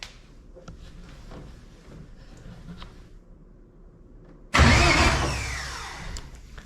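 A twin-engine vehicle with one shared shifter cranks and fires up, a loud sudden burst of engine noise after quiet shop ambience, settling into a strong running roar.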